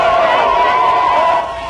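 A large crowd of thousands cheers and shouts outside a city council meeting, a dense, sustained roar of many voices that holds steady and then eases off near the end.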